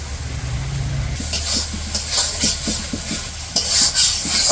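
Ginger garlic paste frying in a pan with onion and green chilli, a steady loud sizzle broken by repeated scraping stir strokes.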